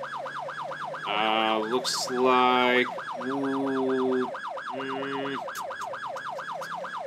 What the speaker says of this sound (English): Let's get our lights on here. Get our sirens on as well.